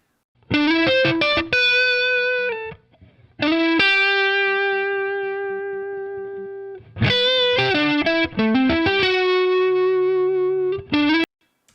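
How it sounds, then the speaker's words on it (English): An electric lead guitar played dry with no processing rings out in loud, clean sustained notes and quick picked runs, separated by short pauses. "let's move on over to our lead guitars. And I'm going to come over to my main lead guitar 7 here"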